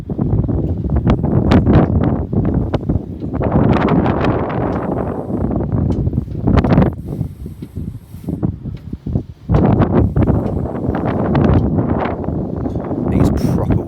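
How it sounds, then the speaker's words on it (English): Strong wind batters the microphone at the Hall Road station level crossing in Merseyside, loud gusty roaring and rumbling bursts that swell and ease across the whole stretch, with a voice briefly heard beneath. "It's proper windy here as well."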